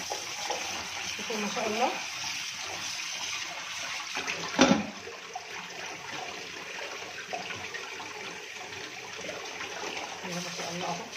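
Taro is washed under a running tap in a colander, with a steady rush of water splashing over the roots throughout and a brief louder clatter midway, while someone speaks briefly over it.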